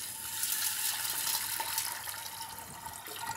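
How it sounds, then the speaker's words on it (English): Plenty of water pours from a tap over puy lentils in a pressure cooker, a steady close splashing stream that runs throughout with no talk. "we're going to cover them with plenty of water"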